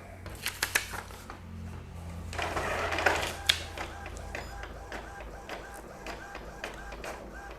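A receipt printer attached to Raintech POS billing software prints out a bill, giving rapid mechanical clicks and a steady buzzing feed with a brief louder burst midway, all close by and without speech.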